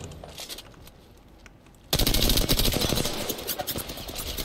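Rapid automatic gunfire pours down from above in an Apex Legends match, quieter chatter of shots at first, then a sudden loud sustained burst that keeps rattling on.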